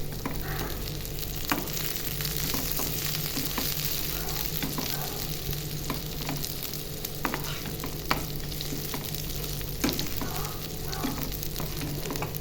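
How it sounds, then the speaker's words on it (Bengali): Onions frying in a pan for an egg Maggi noodle dish, a steady dense sizzle running throughout with repeated scraping clicks and knocks of a spatula stirring them, close and fairly loud, with no talking. "দেখুন পেঁয়াজটা প্রায় ভাজা হয়ে গেছে"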